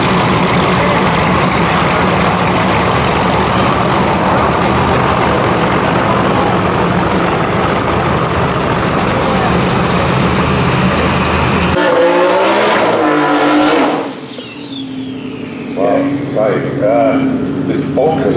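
A 1000+ bhp Audi S2 running a BMW M50 engine roars steadily and loudly for about twelve seconds, then the sound cuts off sharply into quieter idling, with voices talking toward the end.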